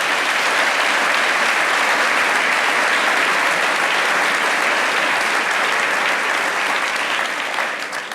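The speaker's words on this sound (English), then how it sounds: "Please give them a round of applause and recognize them." Loud, steady applause from a large audience at a city's State of the City address, sustained throughout and tapering slightly at the very end.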